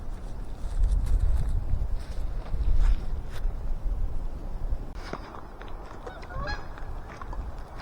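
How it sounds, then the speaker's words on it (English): Geese honking repeatedly in scattered calls from somewhere above, over a steady low rumble of outdoor noise and footsteps. "The geese are flying overhead."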